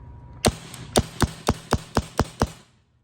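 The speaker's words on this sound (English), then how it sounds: "I can dry fire it." A Tippmann Stormer paintball gun is dry fired, giving eight sharp, close mechanical snaps at a brisk, slightly uneven pace in an otherwise quiet room.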